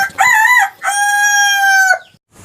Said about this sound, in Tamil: கோழி கூவும்.